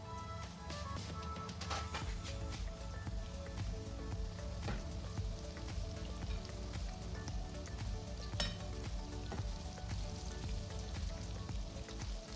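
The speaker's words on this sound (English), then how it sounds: "I'll just go ahead and fry the rest of the chinchin." Chinchin dough pieces made from wheat flour frying in hot oil, giving a steady, dense, close sizzle with fine crackling pops throughout and no talking.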